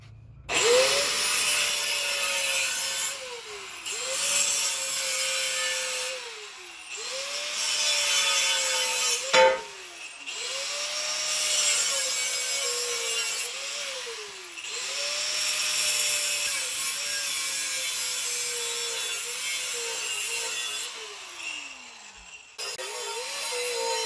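A power tool cuts a metal cross member for a stabilizer brace on a cradle for a 671 Detroit Diesel, its whine rising and dropping in about eight loud, close passes over a steady grinding rasp.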